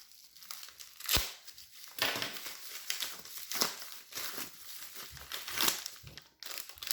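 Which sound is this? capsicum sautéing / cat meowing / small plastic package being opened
small plastic package being opened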